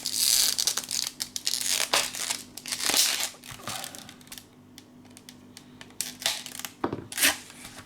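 Plastic and cardboard packaging of a Marvel Champions Magneto hero pack is torn and crinkled open in irregular bursts of crackling and rustling, close by, with brief pauses between handling sounds.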